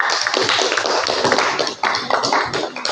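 A classroom of students applauds a group after its presentation, a close, dense burst of many hands clapping continuously for a few seconds.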